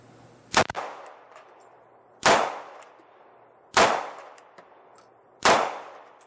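A new pistol fires four shots at a steady pace, each crack followed by a ringing clang from a steel target, loud and close with quiet gaps between.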